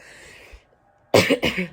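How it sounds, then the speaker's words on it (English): Two quick, harsh coughs close up, one right after the other, following a moment of near silence. "Coughing sucks. Try not to do that."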